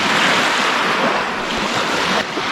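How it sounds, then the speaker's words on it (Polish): Waves lap steadily on a lake beach in Bosnia and Herzegovina, a close, continuous wash of water mixed with wind rush on the microphone, with no voices. "z takiego malowniczego miejsca jakim jest plaża nad jeziorem Busko w Głośni i Hercegowinie"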